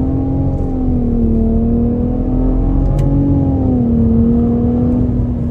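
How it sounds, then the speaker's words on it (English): A 2023 Nissan Rogue Platinum AWD with a three-cylinder engine pulls away in first gear, giving a loud, close, steady high-pitched induction whine that wavers slightly in pitch without any talk. "It's just a three-cylinder, but it's got a nice little high-pitched note to it."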